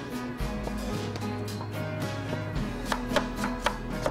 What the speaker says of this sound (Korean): 오이는 세로로 4등분으로 잘라서